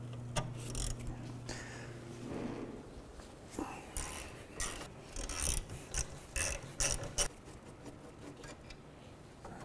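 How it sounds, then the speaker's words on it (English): A ratchet with a 14mm socket loosens the caliper bracket bolts on a 2007-2013 Mitsubishi Outlander rear brake, making close, brisk clicking bursts. They start after a faint hum and knocks and stop before a quiet tail, with no talking. "We'll go ahead and remove those now with a 14mm socket."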